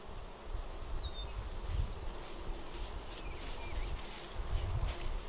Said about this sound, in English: See all the bees there?